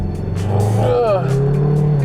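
A 2018 Mazda CX-3 facelift with the G150 petrol engine pulls away at full throttle from a stop, its engine note rising steadily in pitch under a steady cabin rumble while someone talks over it.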